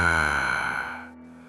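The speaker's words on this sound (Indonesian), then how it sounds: "Suara napas panjang, berat, dan gemetar." A long, heavy, trembling breath for a horror story, a voiced sigh-like exhale that sounds close and fairly loud, then fades to near quiet within about a second and a half.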